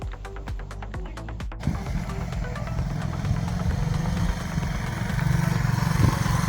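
Well-worn Suzuki Djebel 200 enduro motorcycle with 30,000 km on it, engine running steadily at close range after a few sharp clicks at the start, with a faint gearbox whine under the low hum.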